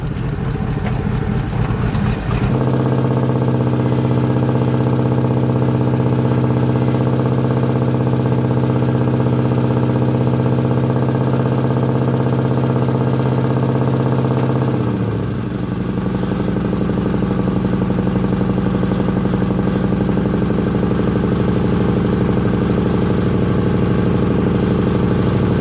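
A turbocharged Lexus LS400 engine runs steadily at idle, loud and close with a continuous low hum; after a brief start-up burst the tone shifts slightly partway through.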